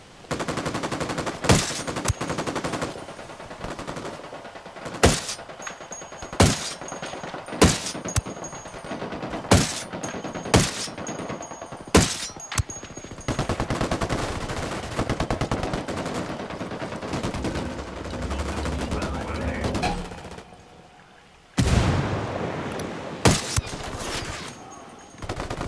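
Gunfire from the game Ghost Recon Wildlands: a long run of sharp, loud shots and bursts, some evenly spaced and some clustered, over steady background game noise, with a brief lull before a final dense volley.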